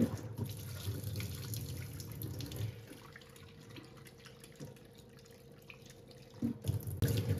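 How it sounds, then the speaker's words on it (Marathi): Clean water runs and splashes softly at a sink while raw chicken pieces are washed by hand, a quiet continuous trickle with faint handling noises. "चांगलं असं स्वच्छ पाण्याने असं 2-3 वेळेस धुवून घ्यायचं आपल्याला"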